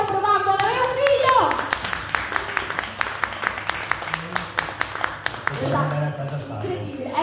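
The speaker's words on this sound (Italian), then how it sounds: "voglio un applauso" Scattered claps from a stand-up comedy audience, a series of sharp separate hand claps spread across several seconds over a low background hum rather than full applause, with a voice returning near the end.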